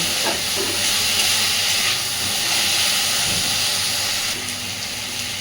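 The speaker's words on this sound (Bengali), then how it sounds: "খুব ভালোভাবে সব কিছুকে মিশিয়ে দিয়ে আলু বেগুনটাকে মোটামুটি একটু ভেজে নেব।" Potato and eggplant pieces fry in a pan, giving a steady, dense sizzling hiss that holds at an even level throughout, with a slight drop near the end and no talking.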